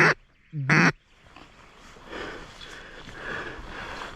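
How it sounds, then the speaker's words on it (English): Gadwall ducks quack in two short, loud calls near the start, then fainter rustling and rain-like patter follow at a duck hunting blind in Alabama. "Oh, ducks. Stay down."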